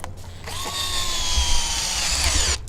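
A power drill spins up and holds a steady, high whine for about two seconds before cutting off, loud and close, with no speech.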